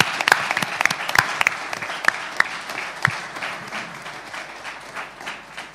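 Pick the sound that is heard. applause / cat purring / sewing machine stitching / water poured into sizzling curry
applause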